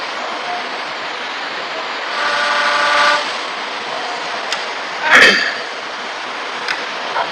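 A train crossing the Chenab rail bridge in a mountain valley rolls past as a steady wash of rumble, swelling in the middle and followed by a sharp horn blast that echoes across the valley, with faint clicks after.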